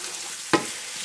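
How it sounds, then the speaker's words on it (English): Eggs, onions and peppers are stirred in a frying pan: one quick scrape of a utensil against the pan cuts through a soft, steady sizzle, close and brief. "Just break them in the frying pan, nothing fancy"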